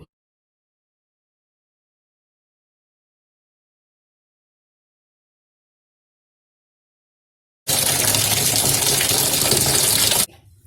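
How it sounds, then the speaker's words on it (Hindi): Tap water gushes into a bowl for washing vegetables, a loud steady stream that starts abruptly after a long silence and runs for about three seconds before cutting off. No one speaks. "अभी सब सब्जियों को मैं एक एक करके धोऊंगी"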